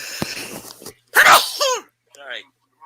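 A single loud, sharp sneeze bursts out during a live stream, preceded by a faint click and low background murmur and followed by brief vocal sounds.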